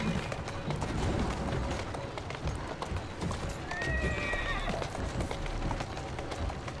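Horse-drawn carriage hooves in the video game Assassin's Creed Syndicate clatter in a steady clip-clop run under busy street ambience, with a whinny and faint crowd noise mixed in.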